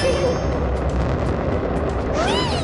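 A cartoon rocket launches into space with a loud, continuous roaring rush, a few clanging metallic hits, and a rising whistling tone near the end.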